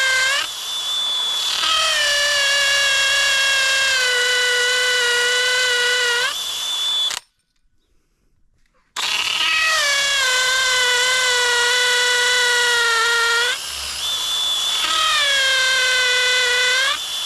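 A DeWalt power tool whines at high, steady pitch while a ranch gate is installed, running in two long loud bursts separated by a brief silence, with small shifts in pitch as the load changes.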